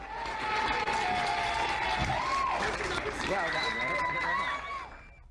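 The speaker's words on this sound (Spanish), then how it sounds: "Un aplauso para él." Applause from a class in a genetics lecture for a student, scattered clapping under a teacher's voice that fades out at the end.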